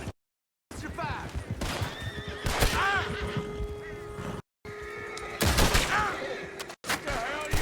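In the Red Dead video game, horses whinny and hooves clip-clop as a horse-drawn coach comes near, with gunfire bursts and short gaps of silence.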